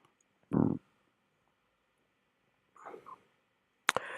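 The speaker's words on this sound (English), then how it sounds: "I'm clicking next." A computer mouse gives a few faint, sharp clicks in a quiet room, separated by long silent gaps, with a brief soft thump near the start and a crisp double click at the end.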